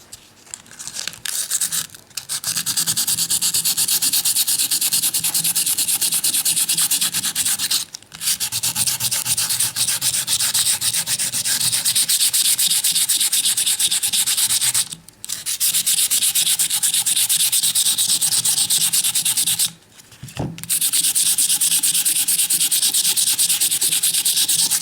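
Micarta knife handles are sanded by hand with 120-grit sandpaper, a loud, close, continuous raspy rubbing in long sustained strokes broken by four brief pauses, with no talking.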